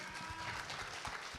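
Dense, steady clapping from a crowd at a poetry night after a Zapin dance performance, sustained throughout with no pauses.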